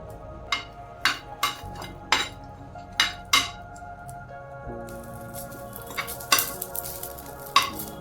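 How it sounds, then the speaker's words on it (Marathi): Green chilies sauté in a little oil in a pan while being prepared for a chakvat leafy-green dish. A steady, close sizzle runs throughout, broken by sharp, repeated spatula clinks and scrapes against the pan. No one speaks. "इथे मी थोड्याशा मिरच्या घेतलेल्या आहेत याला आपण थोडंसं तेल टाकून परतून घेणार आहोत"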